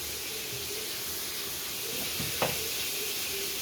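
Steak sizzles in a pan with margarine and garlic, a steady close hiss of frying with one brief clack of a utensil near the middle.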